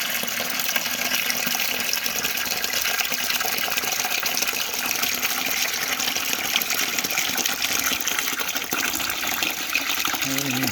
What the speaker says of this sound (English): Lots and lots of water.